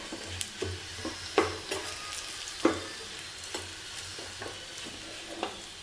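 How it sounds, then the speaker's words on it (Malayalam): A spoon scrapes and taps against a pan about once a second while chili powder sizzles quietly in frying oil underneath. "ഞാൻ ഒരല്പം മുളക് പൊടിയും കൂടെ ചേർത്ത് കൊടുക്കുന്നു എന്നിട്ട് നമുക്ക് ഒന്ന് ഇളക്കാം"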